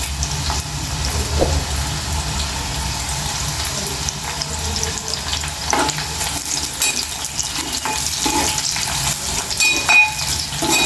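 Fenugreek leaves with moong dal fry in a pan, giving a steady close sizzle with occasional stirring scrapes, and no talk over it.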